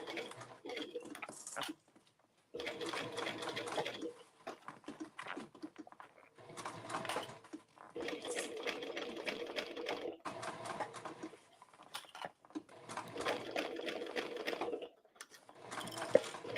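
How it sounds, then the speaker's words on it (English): A sewing machine stitches binding on a circle bag in several bursts of rapid, even whirring and ticking, separated by short quiet pauses, close and moderately loud. "I'm sewing this just under 6 mil, so it's just on the inside of my stitching"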